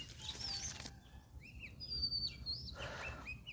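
Golden pigeons flutter around water on a pigeon farm, brief wing-flapping bursts mixed with thin chirps and whistling calls, faint and somewhat distant.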